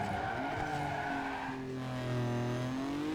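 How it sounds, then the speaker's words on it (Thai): A car in Need for Speed Underground 2 brakes hard, tires screeching in a long rising and falling skid over the engine's steady drone, loud and close with no talk. "เสียงเบรกดังมาก"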